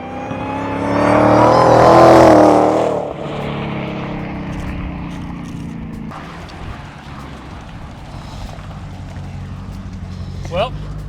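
A 2019 Dodge Challenger Hellcat Redeye surges past loudly for a few seconds, then falls back to a lower, steady engine rumble in the distance, with quiet voices in the background.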